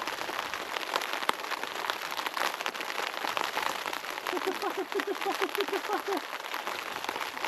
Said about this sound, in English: even though it was clear skies outside, it started raining